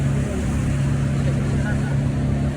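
Close, continuous drone of a motorboat engine during a ride on water near Narayanghat, a strong steady hum with wind and water hiss layered over it, unbroken for the whole stretch.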